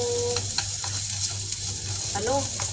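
Garlic frying lightly in a small amount of cooking oil, a steady close sizzle with soft crackles throughout, with brief faint tonal sounds in the background.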